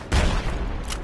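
Gunfire in the video game Project Reality during a co-op village assault: a sharp, loud burst of rifle shots at close range, with a second crack following a moment later.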